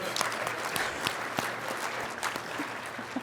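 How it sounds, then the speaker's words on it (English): An audience at an awards dinner during an annual LOC conference applauds, producing a soft, steady patter of many hands clapping at a distance for a few seconds. "Give our hosts, obviously, a big round of applause as well for the LOC conference."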